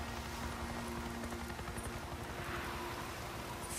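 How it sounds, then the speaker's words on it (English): Steady rain in the open-world game Days Gone, a constant even hiss of falling drops with a faint low hum beneath, quiet and uninterrupted with no voices. "Seems like it's always raining out here."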